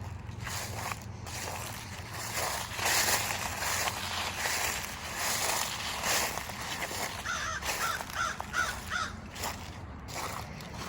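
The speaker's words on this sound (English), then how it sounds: "A bird is up there in that tree." Crow in a tree near old church ruins in Moncks Corner, South Carolina, giving several fairly loud caws over outdoor background noise, with a quick series of calls toward the end.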